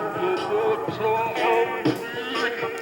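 Music plays from a cassette tape in an old radio with a worn drive belt, the pitch wavering and dragging unevenly throughout, with no talk over it.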